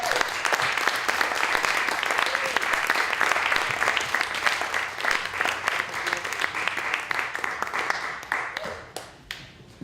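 An audience at a spoken word poetry event applauds warmly, a dense sustained round of clapping that thins out toward the end into scattered individual claps.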